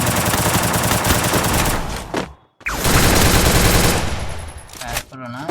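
Rapid bursts of automatic gunfire from the Free Fire video game, loud and dense, pausing briefly before firing resumes, with faint voices in the background.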